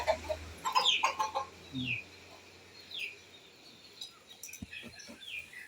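Pet chickens in a yard cluck intermittently while being fed, with a few sharper calls and some soft bird chirps amid faint background noise. The clucks come in short, scattered bursts at moderate distance.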